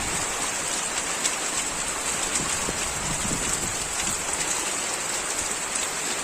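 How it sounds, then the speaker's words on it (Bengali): Heavy rain pours outside at night, a dense, steady hiss of drops drumming on surfaces close by, with scattered louder splashes and no voices. "বাইরে প্রচুর বৃষ্টি হচ্ছে।"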